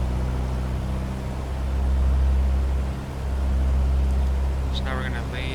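A Piper Cherokee 180 single-engine piston aircraft in a flight simulator holds a steady engine run-up at 2000 RPM, a loud continuous drone with a low rumble, swelling slightly midway, with brief voice near the end.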